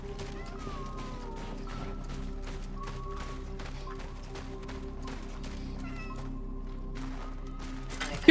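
A cat in the video game Cronos: The New Dawn meows several times, with thin rising cries over a steady low game hum and dense ambient clicks.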